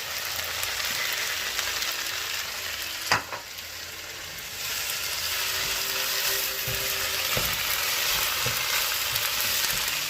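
Thai drunken noodles (pad kee mao) stir-frying with fresh basil in a hot pan, heard as a loud, continuous close sizzle with a sharp metallic clank and a few scraping stir strokes, and no voices.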